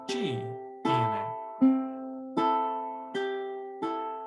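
Ukulele fingerpicking on a high-G instrument, the thumb alternating with the index and middle fingers across the strings. Six evenly spaced plucked attacks ring out close and clear, with notes sustaining between strikes in a steady rolling pattern.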